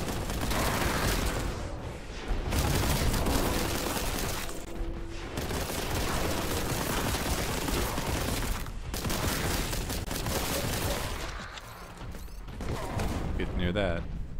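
Rapid-fire gun in the video game Boltgun, long continuous volleys of loud automatic shooting with brief pauses between bursts, and a player's voice now and then.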